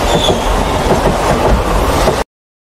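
A moving train in an Indian action film gives a loud, close, rhythmic clickety-clack of wheels over rail joints, then cuts off abruptly.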